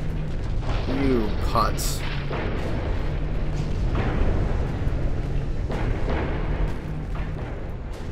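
A battleship explodes and sinks in the naval video game Ultimate Admiral Dreadnoughts: a continuous heavy booming rumble with layered blasts, while someone speaks briefly over it.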